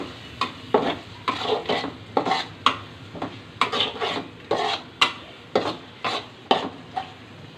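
Spiced liver masala with turmeric being stir-fried in a pan, a rhythmic series of scraping, rasping stirs with a light sizzle underneath, steady and close with no talking.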